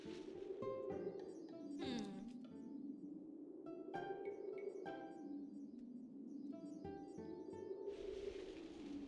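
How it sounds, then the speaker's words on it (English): Birds chirping in a tree within the video game Magic Pengel, a busy run of bright, repeated tweets and short trills over a steady ambient music bed, fairly close and continuous throughout. "There's birds sitting up in the tree,"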